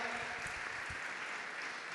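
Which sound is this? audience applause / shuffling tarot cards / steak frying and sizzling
audience applause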